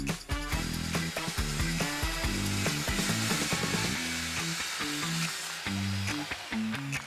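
A power tool cuts through a plywood panel sized to match two drawers, giving a dense, rough buzzing whine with a choppy, stuttering low drone as the blade bites, close and continuous.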